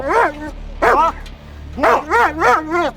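A police dog barks during an arrest by Nye County, Nevada deputies, with several loud, close barks in quick bursts and yelps between them, while people shout in the background.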